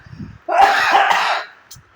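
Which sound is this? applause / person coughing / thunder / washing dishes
person coughing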